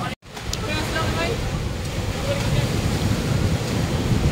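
Sea waves wash against the shore in a steady surf roar with gusty wind buffeting the microphone, and voices speak faintly in the background after a brief dropout at the start.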